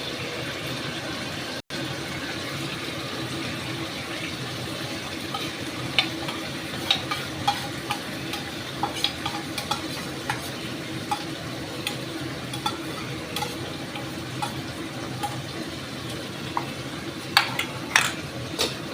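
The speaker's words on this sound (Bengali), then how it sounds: "আমি পেস্টটা এর ভেতর ঢেলে দেবো।" Spice paste for dahi bhindi poured over okra in a hot pan and stirred, a continuous close frying hiss with scattered light clicks and scrapes of the utensil throughout.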